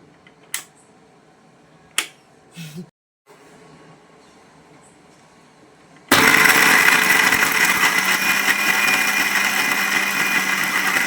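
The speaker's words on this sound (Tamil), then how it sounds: "நான் வந்து மிக்சியில் அரைச்சிருக்கேன்" Mixer grinder grinding coconut, starting abruptly after a few quiet knocks and clicks, then a loud continuous whirring grind that runs to the end without any talking.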